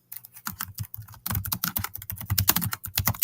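A folder name is typed on a computer keyboard: rapid, close key clicks come in a short burst, then a brief pause, then a denser run of taps.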